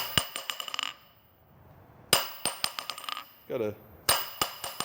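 A ball peen hammer rings sharply on a 60 lb post-style anvil in a rebound test, quick bouncing bursts, three clusters of clinking strikes separated by pauses, with a brief spoken word between.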